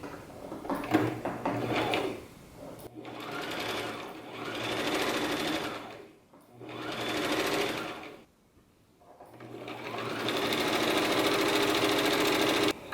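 A sewing machine runs long gathering stitches on linen for a ruffled throw pillow cover, set to maximum stitch length and tension, in four steady bursts with short pauses between them and no talk.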